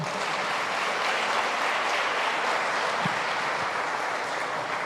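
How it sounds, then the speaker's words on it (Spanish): Dense, continuous clapping from a church congregation at the close of a Saturday evening Mass, a full steady wash of applause with no speech over it. "Un aplauso."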